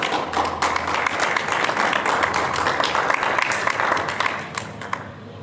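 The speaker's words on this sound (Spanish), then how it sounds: "Yo no sé si usted le da un aplauso al Señor por eso." Church congregation clapping steadily throughout, a dense, even wash of applause at moderate distance with no pauses, tapering slightly at the end.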